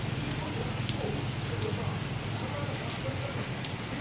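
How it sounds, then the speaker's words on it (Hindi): Steady heavy rain pours down continuously, a dense even hiss of drops close by with no breaks throughout. "और तेज़ हो गई बारिश शुरू"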